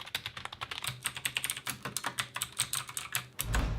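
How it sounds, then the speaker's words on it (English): Fast typing on a KLIM Chroma membrane keyboard, built to be quiet: a rapid, even stream of soft, muted keystroke taps, close and fairly faint, with no talking. "Each keystroke produces a soft sound."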